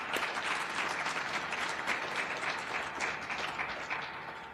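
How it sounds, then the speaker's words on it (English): A conference audience at a ham radio forum gives a steady round of applause, dense clapping holding at full strength throughout before easing slightly at the end, no talk over it. "Angel deserves a round of applause for his efforts"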